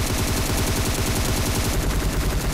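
Automatic gunfire in the mobile battle royale game PUBG Mobile is fired at a bot: rapid, loud, continuous bursts of shots in a tight rhythm throughout, with no speech.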